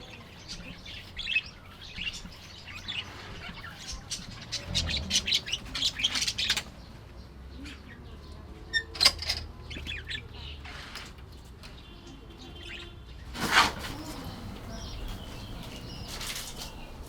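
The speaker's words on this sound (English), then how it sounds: "a chorus of hungry baby budgies, all calling out for food" Chorus of hungry baby budgies in an aviary nest calling for food, a scattered mix of chirps and raspy cries with bursts of wing flapping, fairly faint against background noise.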